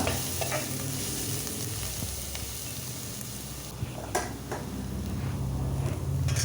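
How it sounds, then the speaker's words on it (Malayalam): Steady sizzling of crushed spices sautéing in a pan over a medium flame, with occasional stirring scrapes and clinks, continuous and close, no voices. "അത് നമുക്ക് മീഡിയം ഫ്ലെയിമിലിട്ട് ഒന്ന് പഴറ്റിയെടുക്കാം"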